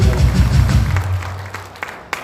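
An audience at a political rally claps for a specially invited guest, producing a short burst of dense applause that fades out quickly.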